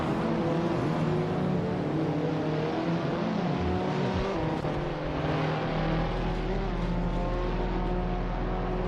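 An Abarth 500, a small nimble car, racing in the Assetto Corsa video game: a steady, loud engine drone with shifting revs and other racing cars blending in, continuous throughout.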